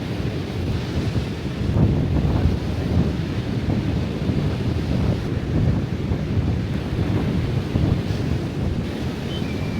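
Wind and surf roll along a sea beach at Freemans, steady broadband rushing with gusts buffeting the microphone, waves swelling and washing continuously close by, with no voices.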